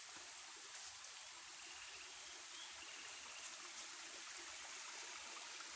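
A stream flows outdoors, a steady broadband rush and gentle trickling that stays even throughout with no voices.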